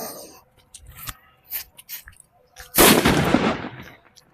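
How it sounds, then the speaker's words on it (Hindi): A hydrogen green bomb Diwali firecracker bursts with a sudden loud blast. Sharp crackles and pops come first, then the main explosion roars and slowly decays over about a second and a half. "और भाई ये हाइड्रोजन ग्रीन बम है, और इसमें फटाफट से आग लगा के आप लोग को दिखाते हैं।"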